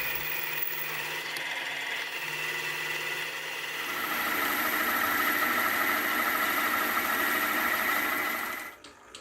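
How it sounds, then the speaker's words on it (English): A milling machine cuts a counterbore recess into a part for an arbor retaining cap, a steady whirring, grinding machine drone that swells louder about halfway through and stops abruptly at the end, with no talk. "I'll start to machine a counter bore on one side of the part"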